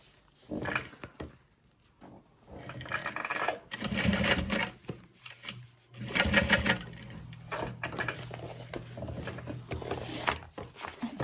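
A sewing machine stitching a Karvi Mini backpack, running in short whirring bursts with pauses between them, fairly quiet and close, with faint handling noise.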